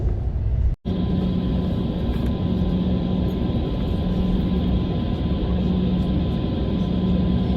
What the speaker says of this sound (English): we landed, we began taxiing to gate 29